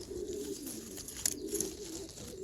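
Belgian racing pigeons in a loft give soft, low cooing calls that run steadily throughout, with faint rustling and a few brief higher sounds over them.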